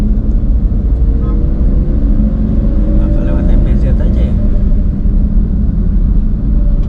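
Road traffic with trucks rumbles steadily and loudly from start to finish, with a low engine drone and faint passing whines, while a person talks over it briefly.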